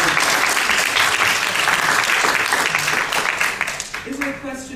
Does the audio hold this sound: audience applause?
yes